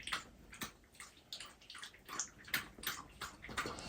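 A dog laps water from a bowl, quiet repeated wet splashing laps in an irregular rhythm, close and faint, with no voices.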